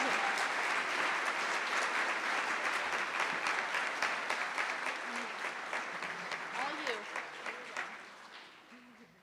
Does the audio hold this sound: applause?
yes